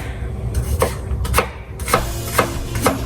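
A knife slicing apples on a cutting board, five or six crisp, evenly spaced cuts ending in sharp taps on the board, close up over a low background hum, no talk.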